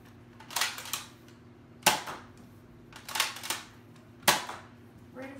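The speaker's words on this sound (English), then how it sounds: "This is the firing test for the Cougar." A Busby Toys Air Warriors Cougar toy blaster fires four sharp, snappy shots at roughly even intervals, each with a short mechanical rattle around it, close and clear against a quiet hum.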